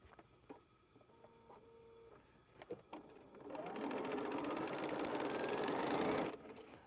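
After a few scattered clicks and handling taps, a sewing machine starts stitching a thread spool quilt block, running in a fast, steady mechanical whir for a few seconds before stopping abruptly.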